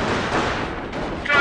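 Battlefield gunfire from Company of Heroes crackles continuously, a dense wash of rifle and artillery fire with a shouted voice rising near the end.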